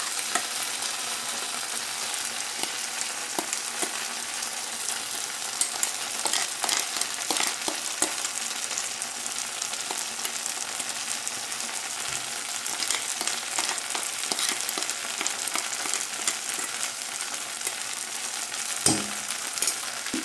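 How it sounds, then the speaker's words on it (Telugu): Ivy gourd and onion masala frying in a pan, a steady close sizzle running the whole time with occasional stirring scrapes and clinks, no talking. "ఈ ఉల్లిపాయ అంతా కూడా ఫ్రై అయ్యే వరకు నేను మళ్ళీ ఫ్రై చేసుకోవాలన్నమాట"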